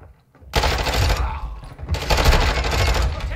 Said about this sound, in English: I have to literally tap fire to get a long shot with this gun.